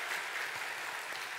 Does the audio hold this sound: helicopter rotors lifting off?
no